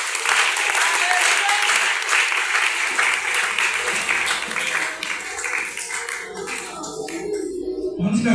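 A church congregation applauds with sustained, loud clapping that fills the space, while voices call out over it before the applause fades slightly.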